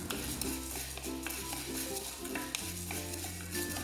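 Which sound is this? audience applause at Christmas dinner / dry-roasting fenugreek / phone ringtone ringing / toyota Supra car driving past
dry-roasting fenugreek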